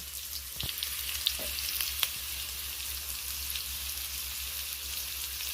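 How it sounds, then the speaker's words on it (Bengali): Potatoes frying in hot oil with salt give a steady, close sizzle with a few sharp crackles and pops early on, held at an even level throughout with no voices. "তো আলুটা ভেজে নিচ্ছি, আলুটা ভেজে তুলে নেব।"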